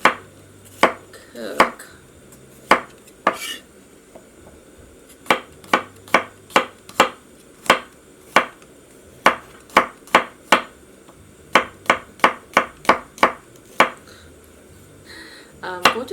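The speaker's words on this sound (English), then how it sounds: "So I'm not gonna mince it because I'm too lazy. So I'm gonna just slice them." A knife slicing vegetables for cheese corn kimchi fried rice, sharp crisp chops hitting a cutting board in irregular bursts, close and loud, with a voice speaking briefly between them.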